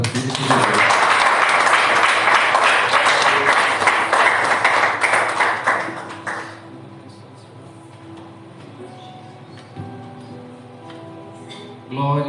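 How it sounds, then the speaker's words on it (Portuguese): Church congregation at a Sunday family service breaking into loud applause for about six seconds, then falling away to a quieter room with a voice speaking. "Gostaria de dar uma salva de palmas para todos."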